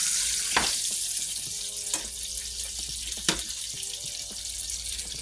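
A burger frying in a pan, heard as a steady, fairly loud sizzling hiss broken by a few sharp crackles and pops, with no talking.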